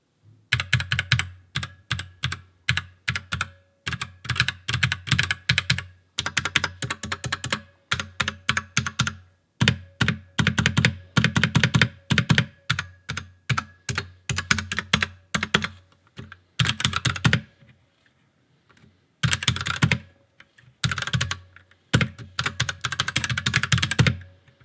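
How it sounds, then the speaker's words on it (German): A DIY mechanical keyboard being typed on continuously, close and crisp, with rapid bursts of clacky keystrokes separated by short pauses over about twenty-five seconds, no voice. "Aber kommen wir mal zum besten Teil einer mechanischen Tastatur, den finalen Soundtest."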